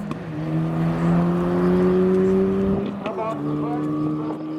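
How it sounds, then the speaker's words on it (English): A Mercedes hatchback launches hard in a drag race, its engine howling in a loud rising drone, briefly dropping at a gear change near three seconds before climbing again; a voice talks over it. "The Mercedes shot off."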